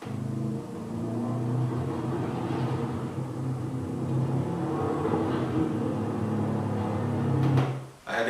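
Subaru Impreza WRX hatchback engine bucking from a failed fuel filter, a continuous low rumbling drone with uneven surging in level, heard close, ending in a brief drop and clunk.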